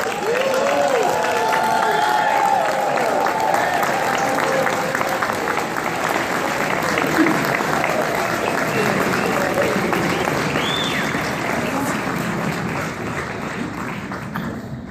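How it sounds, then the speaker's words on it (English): Sustained, loud applause from a seated audience honoring the 1971 Winston-Salem State University football team at its Hall of Fame induction, steady and dense throughout with a few cheers and crowd murmur mixed in. "please stand so that we may see you and applaud you for this induction"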